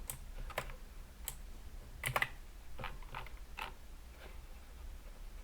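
Keystrokes on a computer keyboard while writing Go code, a sparse, irregular run of light clicks with a brief quick burst in the middle, close and fairly quiet, with no talking.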